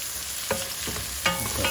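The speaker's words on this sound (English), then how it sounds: "And I'm going to put that fennel in." Herbs including thyme and fennel fry in a pan for a seafood pasta primavera, a steady loud sizzle with a few scraping stirs and light utensil taps.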